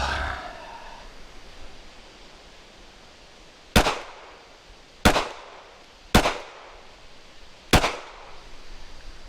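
Four sharp gunshots ring out from handgun shooting practice, spaced a second or two apart, each a loud crack with a brief echoing tail over quiet outdoor background noise.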